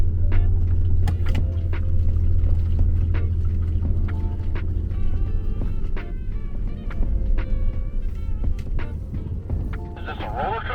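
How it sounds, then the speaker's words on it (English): A vehicle crawls slowly in first gear, its engine giving a loud, continuous low rumble throughout, with faint whining and rattling tones on top. "Put it in first gear this time so I can actually go slow."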